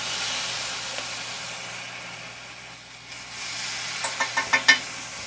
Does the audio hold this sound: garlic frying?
yes